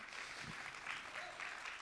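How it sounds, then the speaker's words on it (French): Audience applause welcoming a guest speaker at a live conference event, steady and moderately faint throughout, sounding like a sustained crowd clapping from a distance. "Merci de l'accueillir avec un tonnerre d'applaudissements."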